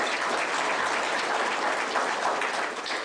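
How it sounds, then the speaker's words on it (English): An audience at a signing ceremony breaks into steady applause, a dense, even wash of many hands clapping that holds for a few seconds without voices. "Ladies and gentlemen, yes, you can applaud."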